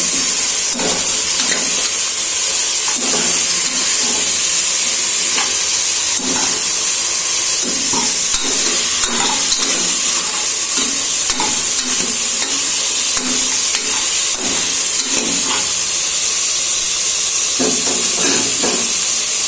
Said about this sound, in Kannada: ಈಗ ಇದನ್ನ ಚೆನ್ನಾಗಿ 5 ನಿಮಿಷ ಫ್ರೈ ಮಾಡ್ಕೊಳ್ಬೇಕು ಆಯಿಲಲ್ಲಿ